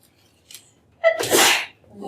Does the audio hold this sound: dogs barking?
no